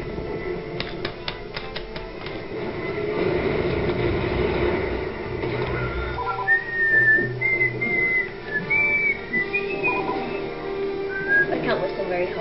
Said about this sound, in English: I can't whistle very high.